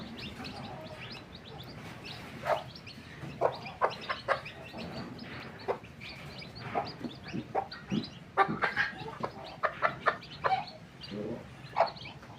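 A hen clucks among her newly hatched chicks, soft repeated clucks mixed with high thin cheeps from the chicks, fairly close and moderately quiet.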